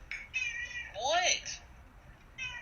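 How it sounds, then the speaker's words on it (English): A vocal pet cat meows close by, a few short calls and one longer rising-and-falling meow over a quiet indoor background. "Sorry, my cat is very verbal for those who don't know."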